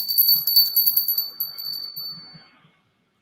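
A small bell rings with a bright, high sustained tone that decays over about two seconds, with faint soft tapping underneath.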